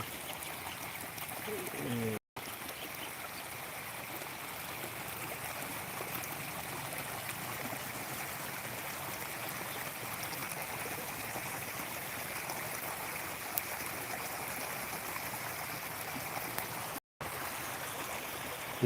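Lake water spilling over the weir of Dodda Tumakuru lake and running on as a stream, a steady broadband rush that holds evenly throughout, close and continuous, with two brief dropouts.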